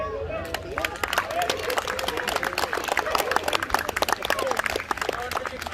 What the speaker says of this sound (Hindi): कि तालियां बजाओ।